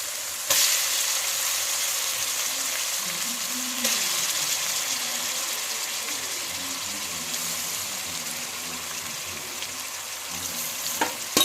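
Raw prawns dropped into a hot pan for a gongura curry, a steady bright sizzle of frying with occasional stirring clatter and faint knocks underneath.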